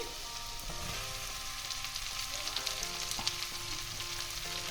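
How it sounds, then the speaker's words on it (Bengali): Chopped onion and garlic fry in hot oil, giving a steady, close crackling sizzle with occasional faint stirring, alone without voices. "এবার পেঁয়াজ আর আমি রসুনটা ভালো করে একটু ভাজা করে নেব"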